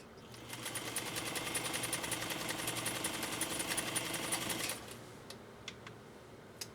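A repaired heirloom Pfaff 230 sewing machine stitches through two layers of nylon webbing, running in a fast, steady mechanical chatter for several seconds before stopping abruptly, followed by a few faint clicks.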